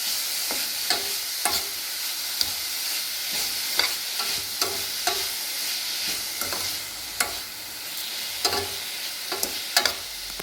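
Carrot and paneer mixture being stirred in a pan for carrot paneer burfi, a spoon scraping in repeated sharp strokes over a steady soft frying sizzle, close and fairly loud.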